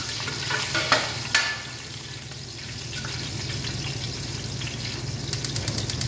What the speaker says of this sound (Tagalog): prituhin lang natin ito ng ganito para lumabas yung aroma niya